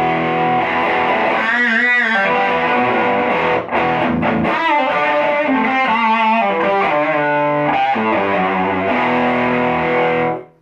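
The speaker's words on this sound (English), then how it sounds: "So it's just the preamp that's going to distort" Electric guitar through a boutique amplifier with high-gain preamp distortion plays thick sustained chords and riffs, loud and continuous for about ten seconds, with no voices.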